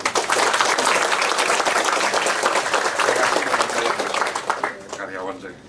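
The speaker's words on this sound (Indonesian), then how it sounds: "Tepuk tangan buat" An audience applauds employees at a gathering, with thick, continuous clapping that is loud at first and then thins and fades toward the end, while voices are heard under it.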